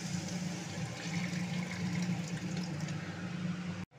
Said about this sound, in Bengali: এখন আমি দেব জল।